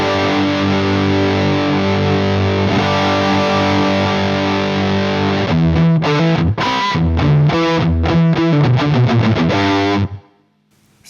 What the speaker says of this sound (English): now with the overdrive channel, now I can determine how much that cleanish sound I have in there